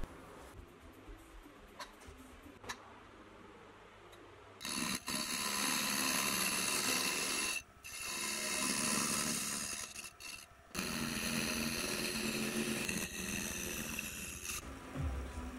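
Metal extrusion being cut to a miter for a cargo bike frame, with a loud, sustained harsh cutting noise after a few seconds of quieter handling, broken by brief pauses and finishing in a steady run.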